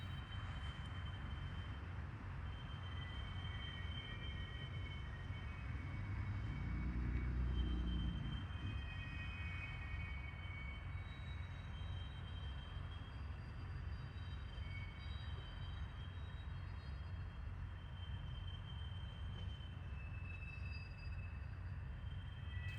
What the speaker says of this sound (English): there's a train heading west at the top of your screen.